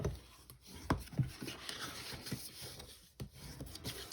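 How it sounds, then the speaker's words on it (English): A tool burnishes along score lines on paper for a chocolate box wrap, producing soft, close rubbing strokes in short bursts with brief pauses, quiet and without speech. "I'm going to score it the same on this side, 1 inch and 2 1/8. And I'm going to burnish."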